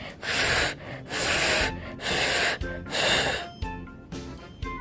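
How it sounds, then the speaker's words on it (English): Four breathy, hissing blows of air come out with little clear tone, then a few weak, wavering flute notes follow. "Her flute kept making the sound"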